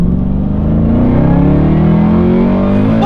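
An 800hp HSV GTSR wagon accelerates hard, its engine note rising in pitch as it revs up, loud and close for a few seconds.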